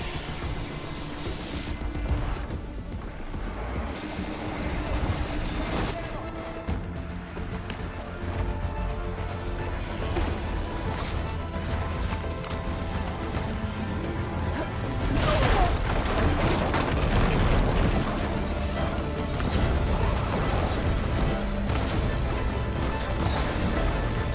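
Booming missile blasts and crashing impacts from a machine fight in Horizon Forbidden West, heavy and continuous, swelling louder in the second half over a dense rumbling game mix.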